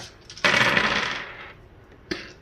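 A big handful of Rory's Story Cubes dice tumbles and clatters across a table in one loud burst that rattles and fades over about a second, with a short final clack after it.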